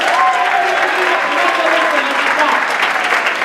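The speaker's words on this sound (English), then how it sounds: "Let's give him a big round of applause!" Sustained applause from a cabaret show audience, dense and steady throughout, with cheering voices and whoops riding on top of the clapping.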